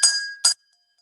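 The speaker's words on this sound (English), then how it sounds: "the glass that is partially full of water makes a sound when I bash my chopstick against it" A chopstick strikes a glass partly filled with water twice, each a bright ringing clink with a sustained tone, the first ringing longer, the second cut short, then silence.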